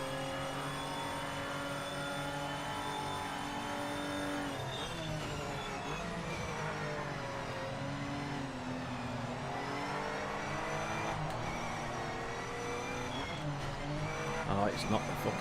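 A race car engine in the Le Mans Ultimate racing game drones loudly and continuously, its pitch rising and falling with gear changes and cornering, while someone talks over it.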